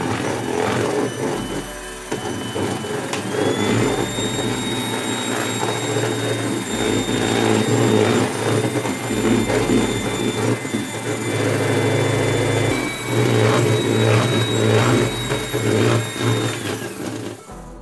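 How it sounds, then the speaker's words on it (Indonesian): An electric hand mixer whirs steadily as it blends pudding with egg whites, a loud continuous motor whine holding for about fifteen seconds with slight shifts in pitch and load as the beaters move. "Mixer hingga tercampur semua."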